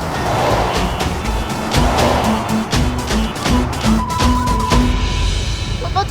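A car racing out of control after a blue wire is pulled, in a comedy TV scene: a loud, steady roar of engine and road noise with whining tones and hints of tire squeal, no voices.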